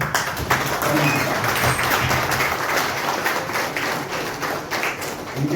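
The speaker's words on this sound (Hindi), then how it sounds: "तो इसके लिए हम खड़े होकर ताली बजा के स्वागत करेंगे।" A standing audience claps to welcome a guest at a local civic felicitation event in Modinagar, a loud continuous wave of applause lasting several seconds with scattered taps and some faint voices mixed in.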